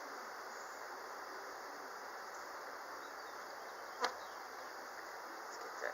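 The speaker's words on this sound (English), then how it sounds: "these are not happy bees" A dense, steady buzz of many agitated honeybees in a hive, close and continuous, with one brief click partway through.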